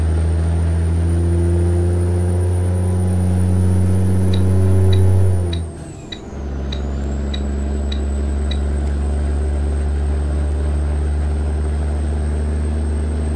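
Truck engine in American Truck Simulator cruising on a highway, a steady loud low drone with harmonic hum that briefly dips around a gear change before settling back to a constant roar.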